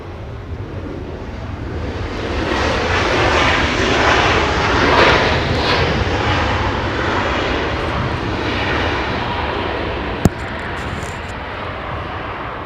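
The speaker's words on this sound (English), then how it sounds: "Like a 737 MAX landing right in front of us." A Southwest Boeing 737 MAX 8 lands at Los Angeles International Airport, its engines producing a loud, steady jet roar that swells and holds close by, with wind rumble and a single sharp click near the end.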